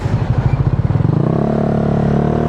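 A motorcycle being push-started in first gear: rapid uneven putters catch and build into a steady running engine drone within a couple of seconds, loud and close.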